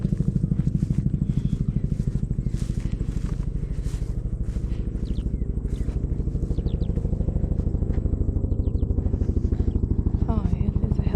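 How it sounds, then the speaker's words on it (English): A helicopter passes over a beef farm with a loud, steady rhythmic chopping thud that lasts throughout, under faint occasional talk. "Oh yeah, there's a helicopter."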